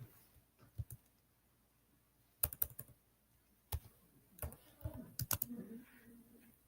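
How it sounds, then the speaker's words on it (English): Quick bursts of typing on a computer keyboard while entering letter scores into a spreadsheet, irregular clusters of close, crisp key clicks separated by short pauses, with no one speaking. "we're going to start typing in letter scores"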